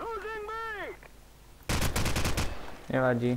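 Close automatic gunfire from Call of Duty 4 multiplayer rattles in a loud rapid burst of roughly a second, between stretches of a voice talking before and after.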